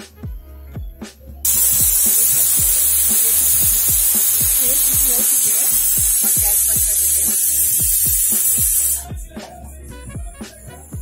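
A pressure cooker holding goat liver masala vents on a high gas flame: a loud, harsh steam hiss bursts in after a moment, holds steadily for several seconds close by, then cuts off.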